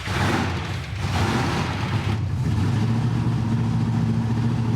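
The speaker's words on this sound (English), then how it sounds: "let's fire this thing up" A big block Mopar engine in the Wreck Runner project car turns over and catches, settling into a loud, steady, lumpy idle with a deep rumble that carries on without pause.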